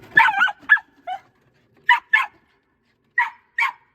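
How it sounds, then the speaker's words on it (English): A dog barks repeatedly up close, a quick cluster of sharp barks followed by evenly spaced pairs of single barks with silence between. "Likes to bark at the roosters and me"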